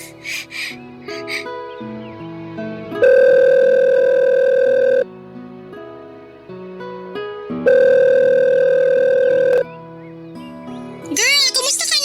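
A mobile phone call tone sounds as two long, loud, steady tones separated by a pause, with short melodic jingle notes and voices around them.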